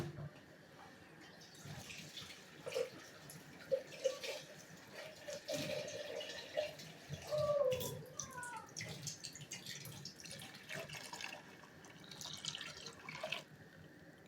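Water pours and splashes into a pot of lassi for kadhi nearby, a soft running trickle with faint clinks, fairly quiet and steady.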